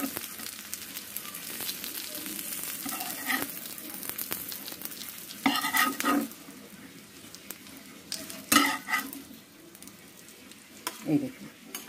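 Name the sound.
frying bottle gourd leaf fritters in a pan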